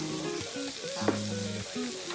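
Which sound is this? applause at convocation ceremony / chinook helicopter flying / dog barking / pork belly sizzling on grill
pork belly sizzling on grill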